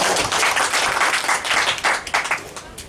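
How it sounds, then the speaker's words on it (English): Applause from a course closing audience, a short burst of fairly loud, close clapping with uneven rhythm that thins slightly toward the end. "I think they deserve another clap."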